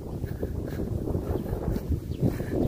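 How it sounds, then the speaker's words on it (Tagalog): Strong wind buffeting the microphone with a continuous low rumble and gusty roar, no voices present. "Ayan mga kalitar, lakas ng hangin."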